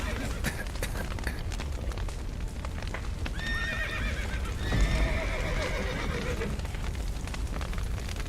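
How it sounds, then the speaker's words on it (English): Horses in The Witcher 3 neigh and whinny several times over steady hoof clip-clop, set in a noisy scene with crackling sounds and background commotion. "The horses!"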